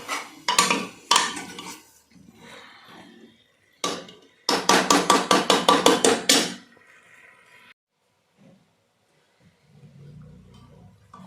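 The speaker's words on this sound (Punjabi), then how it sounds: "ਇਹਨੂੰ ਮਿਕਸ ਕਰਾਂਗੇ ਚੰਗੀ ਤਰ੍ਹਾਂ ਪ੍ਰੋਪਰਲੀ ਮਿਕਸ ਕਰਨਾ ਹੈ ਦੋਸਤੋ ਇਹਨੂੰ ਮਾੜਾ ਜਿਹਾ ਭੁੰਨਾ ਦਵਾਂਗੇ" A spoon or ladle scrapes and clanks against a pan while potato and peas curry is stirred and roasted, with a loud run of rapid rhythmic knocks in the middle, then quieter sizzling near the end.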